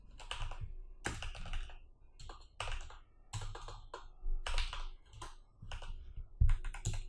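Someone types in bursts on a computer keyboard. Clusters of quick, close clicks are separated by short pauses, and no one speaks.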